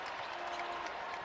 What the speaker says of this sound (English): already a standing ovation from the crowd